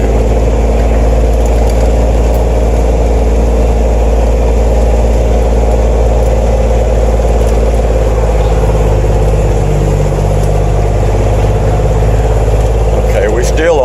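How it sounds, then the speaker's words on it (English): A car rolls along a noisy town side street, its tires and engine producing a loud, constant low rumble and road drone that persists throughout. "This thing we're driving on is kind of noisy."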